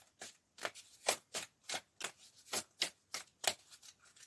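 Tarot cards shuffled by hand for a reading, about a dozen crisp, rhythmic riffle bursts in quick succession, close and clear with no voices.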